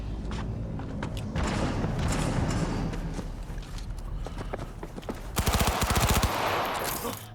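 Gunfire in Cyberpunk 2077, scattered shots through a busy combat mix, then a loud rapid automatic burst of evenly spaced shots toward the end.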